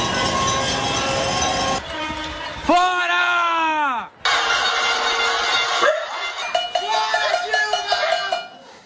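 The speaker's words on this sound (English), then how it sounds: "Her critics had organized a kind of pot-banging protest" A street protest in São Paulo mixes clanging pots and blaring, pitch-bending horns with a loud, dense wall of noise, while people shout over the din.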